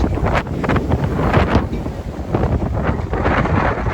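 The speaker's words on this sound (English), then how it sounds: "Sorry about this wind, it's fucking insane today." Strong coastal wind buffets a microphone along Lynn Shore Drive between Salem and Boston, a loud continuous roaring rumble with gusty surges and no speech.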